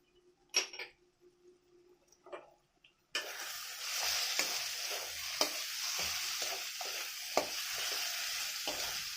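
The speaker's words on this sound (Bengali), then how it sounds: "মশলাটাকে আবারও কষে নিতে হবে।" After a few quiet clinks, turmeric, chili powder and sugar hit hot oil for rajma and burst into a steady, close sizzle, broken by occasional stirring scrapes, with no talking.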